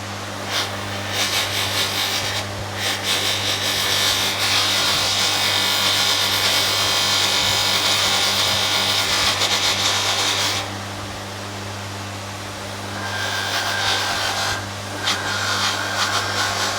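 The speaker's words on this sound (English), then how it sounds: "So, just going to go on the polisher." Foot pegs from a Ducati 900SS bevel are pressed against a bench polisher, producing a close, continuous grinding rub over a steady motor hum, rising and easing as the part is worked, with no talk.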